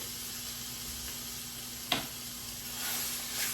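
Stuffed patty pan squash, still partly frozen inside, sizzles steadily in a skillet at moderate loudness, with a single clear knock near the middle as it is pressed down and a faint electrical hum underneath.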